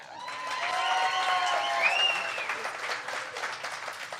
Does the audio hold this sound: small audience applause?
yes